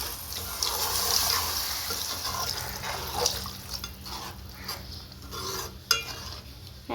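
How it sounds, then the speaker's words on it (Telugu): Water is poured into a pan of egg and dried anchovy curry, a splashing, stirring wash of sound with clinks of a utensil, close and moderately loud. "ఇప్పుడు మనం ఇందులో వాటర్ యాడ్ చేసుకోవచ్చు."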